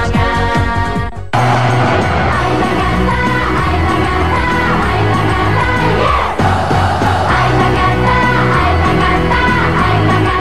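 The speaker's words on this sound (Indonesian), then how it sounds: "Tepuk tangan dan juga semangat." A large crowd roars and cheers loudly and continuously at a variety show taping, with music and stage sound running underneath. The cheering is near and steady and briefly dips near the start.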